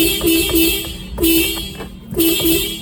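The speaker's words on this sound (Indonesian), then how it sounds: "ini kalau kita nyalakan klakson, ya masih kencang juga" A car horn honks in short repeated bursts, three pairs of loud close blasts with a steady engine-like hum beneath, on a stalled car with a weak battery.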